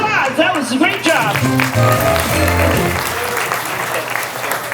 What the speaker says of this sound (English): Hey, round of applause.